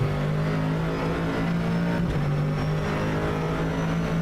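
A race car is driven hard around the Nürburgring during the 24-hour race, its engine holding a steady, loud, high-revving drone throughout with no break.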